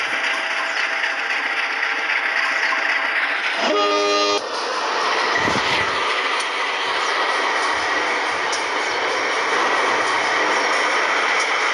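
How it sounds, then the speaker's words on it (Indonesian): A vintage CC201 diesel locomotive in old PJKA livery pulls away from Krian station, its horn sounding a short harmonic blast over a loud, continuous engine roar and rumbling rail noise that persist throughout. "Dan kereta api diberangkat kembali dari stasiun Krian."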